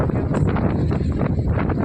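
Wind buffets the microphone at Porbandar beach in a loud, continuous low rumble with gusty fluctuations and faint rustling.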